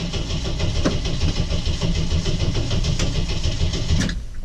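1981 Jeep CJ7 engine started after its battery sat disconnected, a loud steady rumbling run close by that holds evenly for several seconds and then cuts off abruptly.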